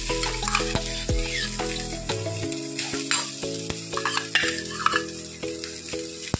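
Mashed potato with turmeric tipped into a hot pan for masala dosa filling and stirred, with steady sizzling and frying, a spoon scraping and tapping against the pan, and a low tonal hum underneath.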